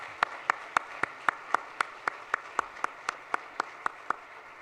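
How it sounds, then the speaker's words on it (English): Applause at a university State of the University address, heard as a steady run of about sixteen evenly spaced, fairly faint claps that sound like a single pair of hands rather than a full crowd, with no talk. "Let's give Grant and the President again another round of applause for this terrific stage innovation."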